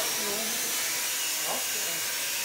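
A vacuum cleaner is run over a cat. Its steady, loud, airy whine holds level throughout, and a voice talks faintly beneath it.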